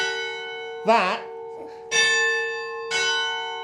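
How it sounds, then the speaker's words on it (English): Close by, the Elizabeth clock bell in the tower of St James Garlickhythe church strikes three loud, even blows about a second apart, each leaving a long shimmering hum that rings on between strikes. "So Let me just get a quick shot of the Elizabeth bell."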